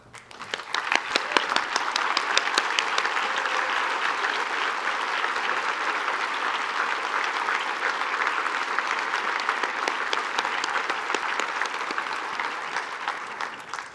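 A convocation audience applauds faculty who earned promotion or tenure: dense, steady clapping that swells in quickly, holds evenly for about fourteen seconds, then tapers off.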